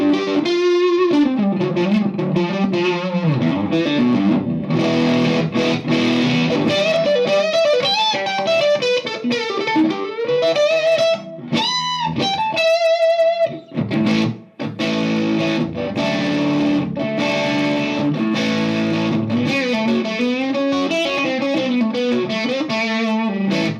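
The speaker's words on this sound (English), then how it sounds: "It doesn't sound like your standard run-of-the-mill humbucker equipped, double hum guitar." A Sterling St. Vincent signature electric guitar is played loud through distortion and modulation effects, with sustained bending lead lines and chords continuing steadily, and a brief choppy break midway.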